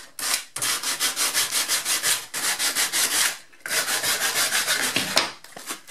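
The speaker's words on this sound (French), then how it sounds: "Donc, vous allez poncer légèrement." Light hand sanding of a wooden crate for a recycling storage project: steady rhythmic back-and-forth scrubbing strokes, close and fairly loud, pausing briefly twice, with no talking.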